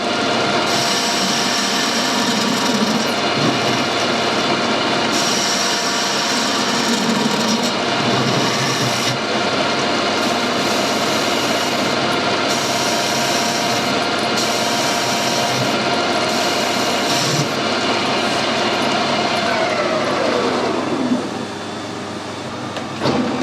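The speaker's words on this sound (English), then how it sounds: "This is a left-hand knife tool which is normally used for machining away from the chuck" A metal lathe hums steadily as a carbide left-hand knife tool cuts, giving a continuous dense whir and scraping hiss that holds level for about twenty seconds, then drops away as the machine slows.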